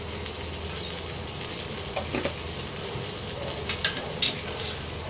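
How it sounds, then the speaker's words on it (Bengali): Fish curry masala with salt and a little sugar sizzles steadily in hot oil for Bengali katla curry, with occasional light scrapes and taps of a spoon stirring the pan. "এটা আবার ভালো করে কষিয়ে নিই"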